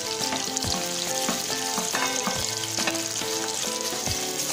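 Tomatoes sauté with softened onions in a pan for a kadamba chutney, a loud, dense sizzle with rhythmic spoon scrapes and knocks against the pan, up close and with no voices.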